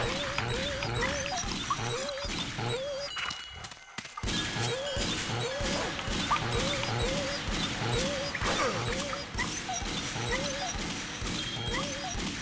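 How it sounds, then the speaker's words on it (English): Dogs being killed in the video game Shadow Man Remastered: repeated rapid yips and whimpering barks over a dense, noisy game soundscape, with a brief near-silent gap midway before the yelping and impacts resume. "But I feel bad that I'm killing dogs."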